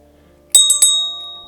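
A small bell rung during a hypnosis session, struck three times in quick succession and then left to ring out with a long, bright, fading tone, close and loud with no talking.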